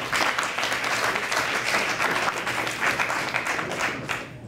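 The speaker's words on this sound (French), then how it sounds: "Donc, on les applaudit." An audience claps through a results announcement at a civil engineering student competition in Quebec, dense continuous applause that stays loud for several seconds, then tapers slightly at the end.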